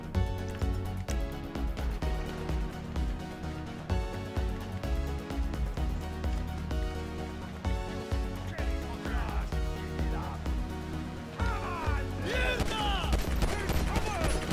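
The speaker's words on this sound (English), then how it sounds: "I deduce from the sound of gunfire that you have not gone for the stealthy approach" Dense gunfire bursts from Grand Theft Auto Online's Cayo Perico heist under a steady backdrop of music and game sound, continuous and fairly loud throughout.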